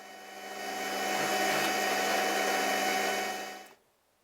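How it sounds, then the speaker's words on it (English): A power saw cuts clearance into the brass grid of an organ windchest, a steady high whining buzz with a rough cutting edge that runs close and loud for several seconds, then stops abruptly. "what I'm doing on the saw now is cutting out the clearance"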